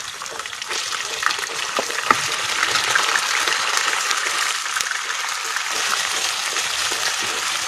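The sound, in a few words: mutton meat frying in oil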